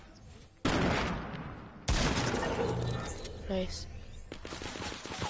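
Gunfire bursts out in a battle royale game, two loud volleys of rapid shots that trail into fainter scattered fire, with a brief spoken remark over it.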